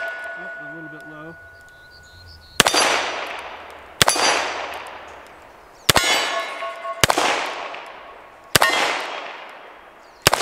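A Taurus 66 seven-shot .357 Magnum revolver fires five loud double-action shots, each crack followed by a ringing steel target, spaced roughly a second or more apart, preceded by faint background chirps.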